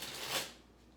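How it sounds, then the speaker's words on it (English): A tarot deck gets one quick shuffle during a card reading, a short soft riffle of cards close by with no talking. "let me give this deck one more shuffle"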